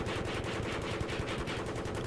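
Dense, continuous automatic fire from a Battlefield 3 Back to Karkand attack helicopter's gunner on Wake Island, rattling rapidly and loudly at close range with no pauses.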